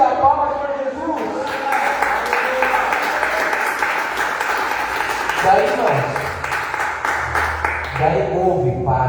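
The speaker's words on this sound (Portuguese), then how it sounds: "Aleluia, palmas para Jesus." A crowd claps and cheers over loud, echoing talk and music at a church service, the applause continuing for several seconds.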